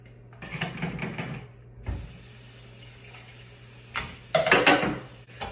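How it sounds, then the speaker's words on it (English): Drained canned kidney beans are rinsed at a kitchen sink, with running water hissing steadily between clattering bursts of handling near the start and end. "so you rinse off your kidney beans"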